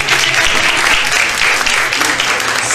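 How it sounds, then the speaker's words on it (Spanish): A lively burst of audience applause for the sponsors at a jazz talk, dense and steady throughout, near and fairly loud with faint voices mixed in. "Siempre es para aplaudir a los patrocinadores"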